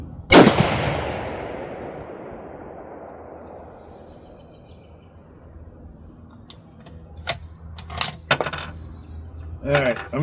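A Remington 788 rifle in 6mm fires at an outdoor range, one loud, sharp report whose echo rings out and slowly decays, followed by clicks and clacks of the bolt working.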